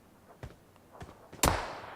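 Gunfire in a multiplayer shooter game: a few soft, spaced shots, then one sharp, louder report near the end with a short ringing tail, all fairly quiet overall.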